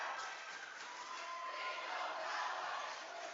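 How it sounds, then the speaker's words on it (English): A Friday night crowd roars at a boys high school basketball game, a broad, sustained wash of cheering and shouting that swells gently and stays loud for the whole moment. "Friday night crowd getting loud at the pit."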